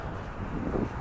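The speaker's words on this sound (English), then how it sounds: "And it's windy." Steady wind buffeting the microphone for about a second on a hillside cemetery in December, a low rumbling roar with no voices.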